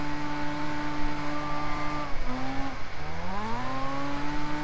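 A Mazda RX-7 in CarX Drift Racing Online sends out a loud, steady rotary engine drone, then dips sharply in pitch and climbs back up as the car revs through a drift, with no talking.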